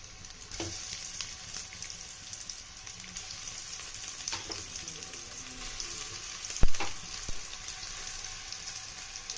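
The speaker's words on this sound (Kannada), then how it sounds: "ಈಗ ನಾನು ಇದನ್ನ ಫ್ರೈ ಮಾಡ್ಕೊಂತೀನಿ ಓಕೆ ಎಣ್ಣೆ ಹಾಕೊಂಡಿದೀನಿ ಆಲ್ರೆಡಿ ನಾನು ಎಣ್ಣೆ ಬಿಸಿ ಆಗಿದೆ" Chicken cheese pieces fry in hot oil over a low flame, giving a soft, steady sizzle with faint bubbling. A few sharp clinks of a utensil against the pan stand out near the end, and no one speaks.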